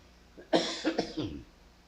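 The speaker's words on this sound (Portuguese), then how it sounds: "Oh, meu Deus, que pigarrinho, hein?" Someone clears their throat once, a short rough rasp close to the microphone, in an otherwise quiet room.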